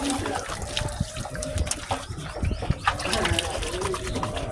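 Cold water pours and splashes steadily, probably from a drum, with a continuous liquid rush heard close alongside people talking throughout.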